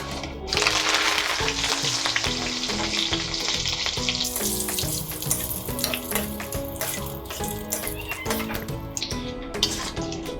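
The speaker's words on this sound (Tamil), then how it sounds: "இப்போ இதே எண்ணெயில் பார்த்தீங்கன்னா கொஞ்சமாக கருவேப்பிலையை ஃப்ரை பண்ணி எடுத்துக்கலாம்." Curry leaves fry in hot oil left over from okra pakoda, producing a loud, continuous crackling sizzle up close that stays dense throughout, with no voices.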